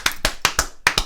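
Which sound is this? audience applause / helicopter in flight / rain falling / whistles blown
audience applause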